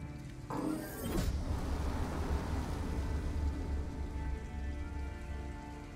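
Steady rain in the video game Detroit: Become Human pours and patters without pause, with a dull thump near the start.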